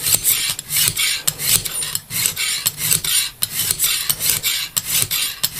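A knife blade is drawn repeatedly across a fine hone on a Lansky sharpening system, rhythmic close raspy strokes in quick succession with no talk.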